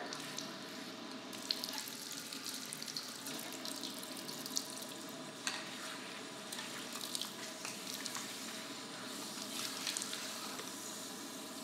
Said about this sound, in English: if you're in the sink already, you can just wet your towel with hot water